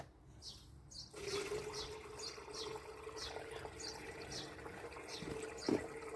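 Water runs steadily into a camper van's tank during refilling, a continuous hiss and trickle close by that holds for several seconds after a quiet start.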